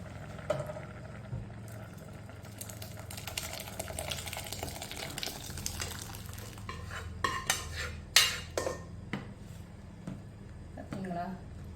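Dissolved lentils are poured into simmering sambar in a pot and stirred, giving soft liquid sloshes with scraping utensil and clinking pot sounds that rise to sharper knocks toward the end, with talk over parts of it.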